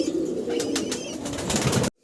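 A sobji racer pigeon coos in low, rolling calls close by, with faint flutters of wings, and the sound cuts off abruptly at the end.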